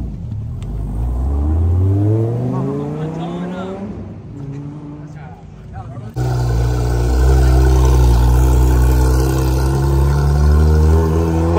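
Exotic sports cars, including a Lamborghini SVJ, accelerating past at a car meet on a hot day, with loud roaring engines and rising revs that swell sharply in the second half.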